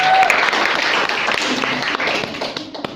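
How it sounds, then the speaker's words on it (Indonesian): Seminar audience applauding as a speaker is introduced, a brief dense patter of clapping throughout, with voices mixed in. "Beri tepuk tangan."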